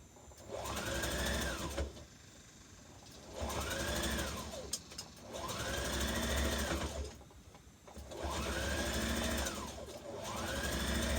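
A sewing machine stitches a dress sleeve seam in four sustained runs, each whirring up to speed and slowing with short pauses between, close and steady with no talking.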